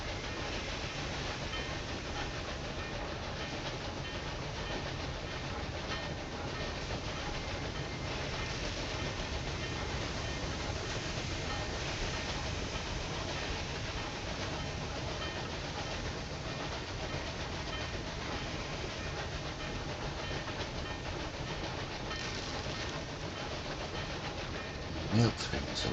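Trains running in the railway management game Railway Empire 2, a steady dense rumble of rolling stock and engines that persists throughout without a break, with a voice talking over it.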